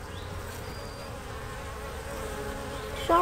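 Honey bees buzz steadily around a feeder, a continuous close droning hum that holds even throughout, with a small rise in level at the very end.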